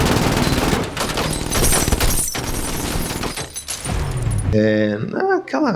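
Rapid bursts of gunfire and shattering crash through a chase scene in an action movie, dense and loud, overlapping with voices and ending in a musical sting.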